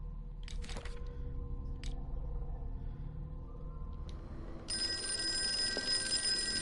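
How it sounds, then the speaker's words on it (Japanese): A telephone begins ringing partway through, in the horror video game Call of Cthulhu, a steady bright bell tone over low rumbling ambience and a few earlier clicks and thumps. "電話が鳴っているが他のものが気になる。"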